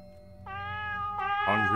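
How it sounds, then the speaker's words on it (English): A cartoon cat in a puzzle video game gives a short, bright meow that rises and then ends in a brief second call, clear and close over a quiet background hum. "Aw, cute kitty."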